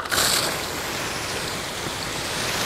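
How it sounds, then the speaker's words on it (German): A multipurpose fire hose nozzle is opened on a PFPN 10-1000 portable fire pump setup, and a steady loud rushing water jet follows it, broadband and continuous, with a brief sharper burst at the start. "So, ich öffne jetzt das Mehrzweckstrahlrohr."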